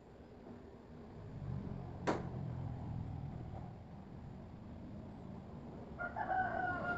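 A rooster crows faintly in the distance over quiet, foggy mountain village ambience, with a sharp brief sound partway through.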